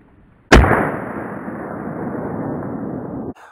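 A single loud, close handgun shot fires a Federal 85-grain jacketed hollow point round. A sharp crack is followed by a long, rumbling echo that lasts about three seconds before it cuts off.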